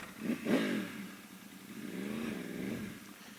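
A Yamaha R1 motorcycle with a cat delete and an ECU flash is ridden along, its engine note rising and falling through revs at moderate distance, with a sharper burst early on.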